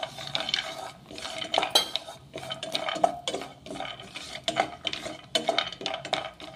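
Almonds roasting in a spoonful of ghee in a small pan while dry fruit modak are made, with repeated metal spoon scrapes and clinks against the pan in an irregular rhythm, close and moderately loud, with no sizzle and no talking.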